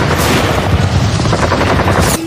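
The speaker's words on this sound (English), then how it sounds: "strafe its decks with rockets, cannon fire, and armor-piercing rounds before trying to sink it with torpedoes" Aircraft strafing a ship's decks with rockets, cannon fire and armor-piercing rounds: a dense, continuous barrage of rapid gunfire and booming blasts, loud and close throughout.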